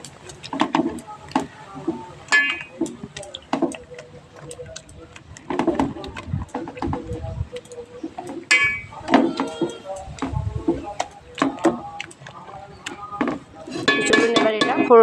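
Boiled taro and pumpkin mashed in a metal pot in a village kitchen, giving repeated irregular clinks and scrapes of a utensil against the pot, fairly close and continuing throughout.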